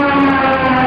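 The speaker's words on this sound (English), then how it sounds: "chances are many of you have heard the sound effect of a dive bomber," A dive bomber siren sound effect plays as a loud, steady wailing tone with strong harmonics, held without pause for about a second.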